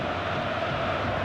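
A stadium crowd in the football game FIFA 14 roars steadily during an England attack against Italy, a dense, even wash of noise with no breaks, fairly loud.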